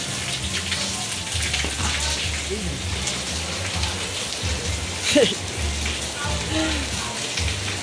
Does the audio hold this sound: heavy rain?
yes